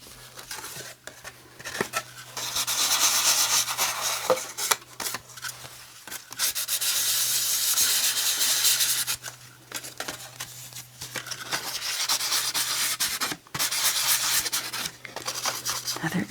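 Sandpaper rubs against the edges of a brand new note card in repeated scratchy strokes, close and fairly loud, pausing briefly between bursts.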